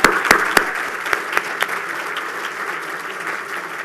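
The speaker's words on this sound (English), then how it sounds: "let's have another round of applause for both of them" Guests applaud at a gala, opening with a few loud, close claps over a dense crowd of clapping that gradually thins and softens across the few seconds.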